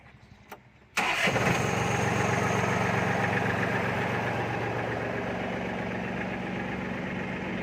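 A used Thai farm tractor's engine, a model 35 with a front dozer blade, cranks and catches after a few quiet seconds, then settles into a loud, steady, throbbing idle close by.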